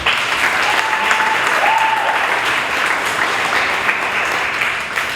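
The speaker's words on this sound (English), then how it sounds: "let's give those people another round of applause" A crowd at a youth summit applauds steadily, a dense wash of clapping that holds at full strength for several seconds with no talking over it.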